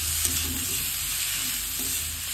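Tomato, green chillies, sugar, chilli powder and turmeric sauté in oil for a prawn malai curry, giving a steady close sizzle with soft stirring scrapes and no voices.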